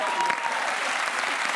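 Studio audience clapping steadily in a Spanish late-night TV show studio, a dense, even wash of applause that fills the whole stretch without pause.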